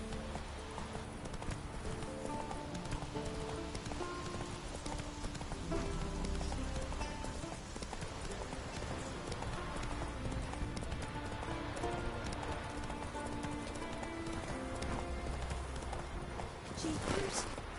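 Horse hooves clip-clop steadily in a video game as a horse is ridden along, a continuous rhythmic trot at moderate volume mixed with game music and ambience.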